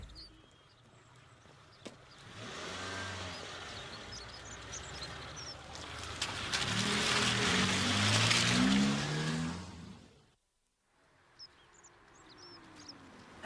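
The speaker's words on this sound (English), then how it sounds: "I heard a car slowing, so I stopped." A car slows on a village road, its engine swelling closer and louder then dropping away and cutting out, with faint birdsong in the quiet background.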